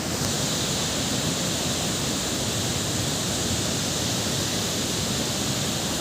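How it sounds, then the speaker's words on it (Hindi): Water rushes out of the Sindhnai Melsi canal at the Sindhnai Barrage as a loud, continuous roar of churning flow, broad and unbroken, with no voices over it. "ये निचला हिस्सा जहाँ से पानी निकल रहा है सिदनई मेलसी कैनाल का"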